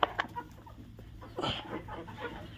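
Country chickens cluck while feeding in a farm shed, with soft scattered clucks and short calls, fairly quiet and close, over a low steady background hum.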